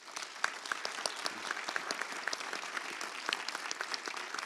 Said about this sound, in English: we can all give her a big, big round of applause.